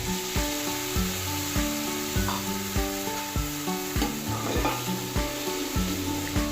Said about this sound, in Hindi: अब हम इसमें चॉप किया हुआ अपना प्याज ऐड कर देंगे।